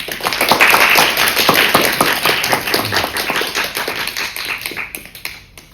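Audience applause at a poetry competition awards ceremony in Harlow, a room full of people clapping steadily and close, the clatter thinning out and fading over a few seconds.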